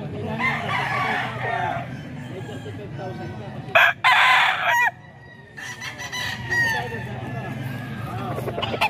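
Chickens cluck steadily and a rooster crows nearby, with a second loud crow midway, over a background of murmuring voices and farmyard noise.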